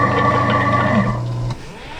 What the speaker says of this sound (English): what you just heard was the draining of any remaining water